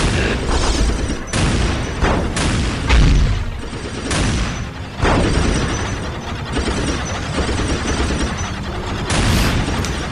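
Warhammer 40K game battle noise: repeated loud booming explosions and bursts of gunfire pile up continuously and close by, with no voices over them.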